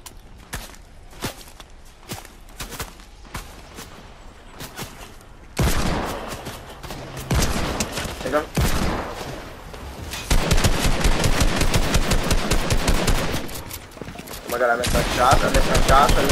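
Video game gunfire in a Fortnite-style match: sparse single shots at first, then dense rapid bursts of automatic fire, loud and close, mixed with footsteps.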